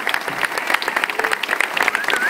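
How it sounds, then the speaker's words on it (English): Audience at a university press conference clapping for a curator, lively distinct claps with some crowd murmur and a brief voice, loud and close. "let us give you applause"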